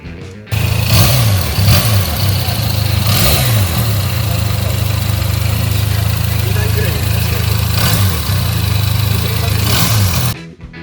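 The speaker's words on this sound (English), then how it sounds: "Here is how the engines sound like." A Harley-Davidson X350 or X500 parallel-twin motorcycle engine idles steadily with a low throb, broken by several sharp revs that rise and fall, loud and close throughout.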